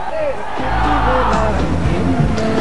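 Large crowd at a political rally at Pundaloy Stadium in Nuwara Eliya, a loud continuous roar of voices with cheers and whoops rising throughout.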